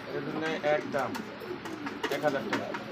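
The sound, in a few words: beauty homer pigeon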